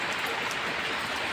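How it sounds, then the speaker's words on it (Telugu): Rain falls into a leaking hut as a steady, dense patter with water dripping through, continuous and fairly loud with no pauses. "ఆడకాడకి చినుకుల కింద మొత్తం అన్నీ పడుతున్నాయి నీళ్ళు"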